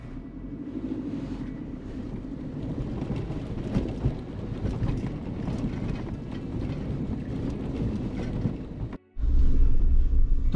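A vehicle fords a water crossing in Ladakh, with a continuous loud rushing rumble of churning water and engine. It drops out for a moment, then returns even louder.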